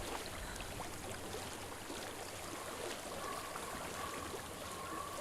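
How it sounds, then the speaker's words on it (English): A flowing stream in the video game Hellblade: Senua's Sacrifice rushes with a steady, unbroken wash of water, moderately quiet and heard alone. "I hear water."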